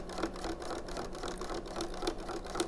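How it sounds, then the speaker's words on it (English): A sewing machine runs steadily close by, stitching near the edge of a waistband, with a fast, even mechanical whir and faint rhythmic ticks, no voices. "So I'm just stitching really close to the edge, and you do that all the way up."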